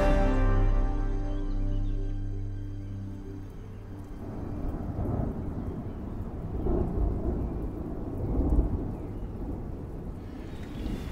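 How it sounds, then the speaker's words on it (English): Thunder rolling through the Ardeche valley in wild France, a long deep rumble with tonal hum early on, then broad crackling peals swelling and fading over several seconds, fairly loud and without talk. "Listen to that thunder."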